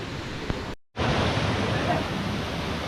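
Water pours continuously from the 108 holy spouts at Muktinath temple in Nepal, a steady close splashing rush broken by one brief cut, with a voice speaking over it.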